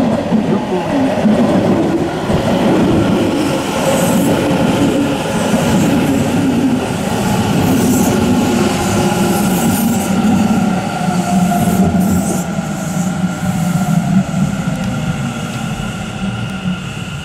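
A six-car Kintetsu Nara Line train pulls into Higashi-Hanazono station: a loud, continuous rumble of wheels and carriages with rhythmic clatter and faint squeals as it slows alongside the platform.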